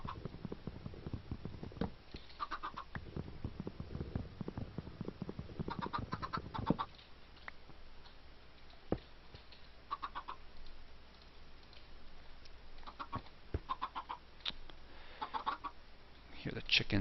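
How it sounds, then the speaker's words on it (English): Chickens clucking in a block-building video game, short faint bird calls recurring intermittently over a low rumbling background, with a person talking through the first part. "So you guys can probably hear the chickens."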